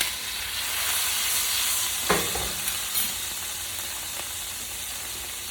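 Minced garlic and chopped ginger frying in a pan, a constant bright sizzle with a few sharp clicks and pops from stirring, close and moderately loud with no talking.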